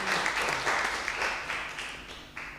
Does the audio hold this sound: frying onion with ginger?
no